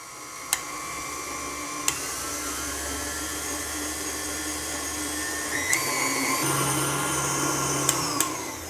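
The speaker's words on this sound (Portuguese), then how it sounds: "eu vou começar batendo em velocidade baixa e vou aumentar até a velocidade alta" An electric mixer beating a cocoa and melted chocolate filling runs steadily throughout, with a continuous whirring drone that shifts in pitch partway as the speed changes, punctuated by a few sharp clicks.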